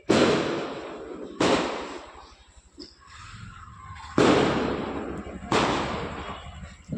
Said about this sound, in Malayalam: എല്ലാവരും പടക്കം പൊട്ടിക്കുന്നു